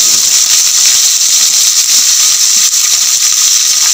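Whole spices frying in hot ghee for kadai chicken, a loud, dense, steady hiss close by with faint crackling flecks and no voices.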